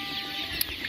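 A broiler rooster kept on a poultry farm clucks briefly, a short soft cluck set in a faint farm ambience with no talk.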